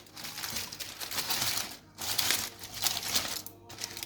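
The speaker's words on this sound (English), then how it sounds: "Now we take it out of the foil." Foil crinkles and rustles as it is peeled off a pot of braised pork belly. The close, bright crackling comes in two or three bursts separated by brief pauses.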